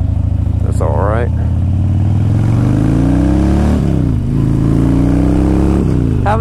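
A 2001 Harley Davidson Dyna Wide Glide accelerates on a test ride, its loud, close V-twin engine note climbing steadily in pitch, dipping at a gear change and rising again with wind roar throughout.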